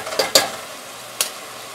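Tomato paste being stirred into a sizzling pan, a low steady fry under a few sharp spoon scrapes and clicks against the metal, close by.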